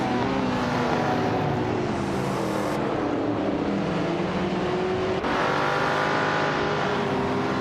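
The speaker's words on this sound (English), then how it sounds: "the race just kicked off at the Albi Vintage track" Vintage race cars, including a 1962 Ferrari 250 GTO, roar off the start at the Albi track, engines revving hard and steadily with rising pitch sweeps, loud and close, shifting gears without pause.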